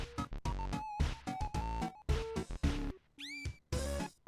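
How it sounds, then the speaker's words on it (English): A cat meows over and over in a fast, choppy sequence of loud, close calls with short gaps, heard from a video played back on a stream. "Look at this little cat."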